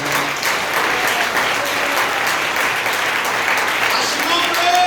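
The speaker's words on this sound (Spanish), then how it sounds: "Dale un aplauso al Señor" A church congregation applauds loudly and continuously, a dense wash of many hands clapping together that fills the room for several seconds without a break.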